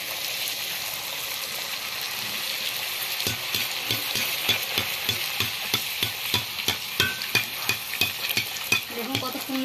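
Fuchka puris frying in hot oil, a steady sizzle with a run of regular scraping stirring strokes in the second half, close and fairly loud, no talk.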